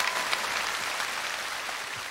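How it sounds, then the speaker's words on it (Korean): Studio audience clapping at a Korean televised singing contest in Busan's Yeonje district, a dense, steady wash of applause that stays continuous and fairly loud. "박수 한번 주시기 바랍니다"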